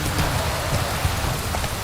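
Heavy, even downpour in the game Witcher 3 The Wild Hunt, a continuous close wash of rain on surfaces with no voices and no break.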